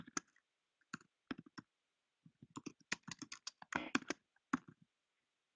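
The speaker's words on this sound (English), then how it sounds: "I'm typing as fast as I can because I want to go ahead and promote this fast." Rapid typing on a computer keyboard clatters in bursts of quick clicks with short pauses between them, close and dry in a quiet room.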